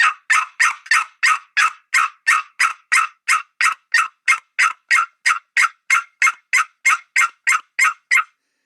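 A wild turkey hen call imitated with a caller: a long, even run of about twenty-five sharp yelps, evenly spaced and loud, with silence between each note.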